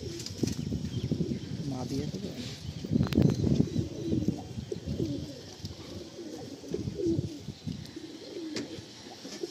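White Madrasi pigeons in a loft give soft, low throaty coos in repeated clusters, with a flurry of wing flaps partway through and people talking nearby; fairly close but quiet.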